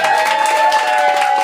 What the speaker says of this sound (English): Clap it up for Aimee Herman.